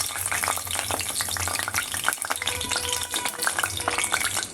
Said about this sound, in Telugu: ఇప్పుడు ఈ ఉల్లిపాయలు కూడా దీంట్లో వేస్తున్నాను. ఇవి కూడా మంచిగా ఈ ఆయిల్లో ఫ్రై అవ్వాలి.